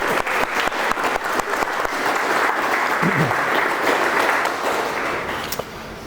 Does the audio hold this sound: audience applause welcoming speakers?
yes